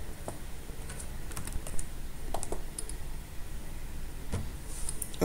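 Quiet clicks of a computer keyboard come in a few short irregular bursts as a password is typed, faint over a low room hum, with no talk.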